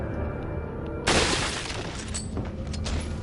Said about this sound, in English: Ah, so many explosions.